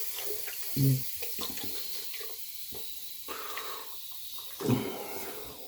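Water running steadily from a tap into a sink, a soft continuous hiss with a couple of louder splashes.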